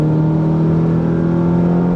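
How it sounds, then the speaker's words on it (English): A Toyota MR2 Mk1, a classic Japanese car, drones loudly from inside the cabin at a steady, sustained engine pitch while pulling in third gear out of a roundabout. "Build up them revs."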